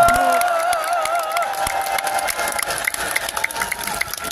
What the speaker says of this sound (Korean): 이상환님께 박수, 큰 박수 부탁드립니다.